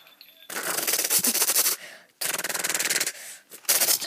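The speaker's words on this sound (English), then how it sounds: "It's a machine gun!" Rapid machine-gun fire from a video game, two long close bursts of fast repeated shots with a short pause between, then a brief final burst.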